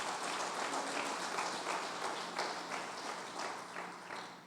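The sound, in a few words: church congregation clapping hands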